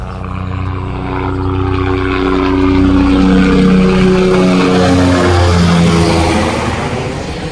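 A helicopter passing near mountains in the Machail Mata region, a loud droning engine and rotor hum that swells toward the middle and stays prominent throughout.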